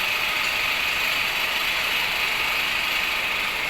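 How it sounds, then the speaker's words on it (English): An electrical rotating machine running at 1500 RPM in a lab gives off a steady, unbroken mechanical whir and hiss at a constant level throughout. "Now we will start loading the machine"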